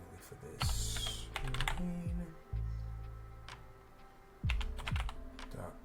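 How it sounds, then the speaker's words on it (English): Fingers tap quick bursts of clicks on a computer keyboard, with irregular clusters of keystrokes and short pauses between them. "we will type in everything manually for this"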